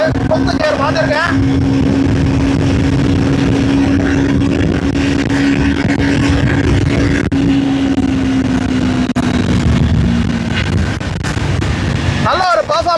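A Triumph motorcycle engine in fourth gear, revving near high RPM at over 120, hums steadily with a droning tone and heavy wind rush throughout, under a rider's talking.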